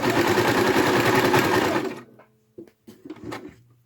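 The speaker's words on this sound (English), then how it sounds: "I'm just stitching where I think I can stitch." A sewing machine stitches lace and trims in a fast, loud, close mechanical whir for about two seconds, then stops, leaving a few soft handling clicks and thumps.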